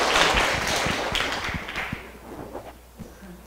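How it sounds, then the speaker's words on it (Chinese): An audience bursts into dense applause to welcome a lecturer at a law academy class session, the clapping loud at first and then thinning to scattered claps as it fades. "请掌声欢迎，谢谢。"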